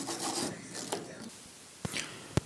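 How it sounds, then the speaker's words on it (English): A small flat chainsaw file scrapes caked dirt off the metal of a New Holland S-68 square baler in rough rasping strokes, followed by a couple of sharp clicks, close and moderately quiet. "I used a small flat file from my chainsaw equipment."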